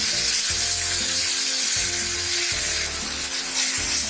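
Tomato puree hits hot oil already frying spices and ground mustard, giving a loud, steady sizzle with stirring scrapes throughout, close and alone with no voices.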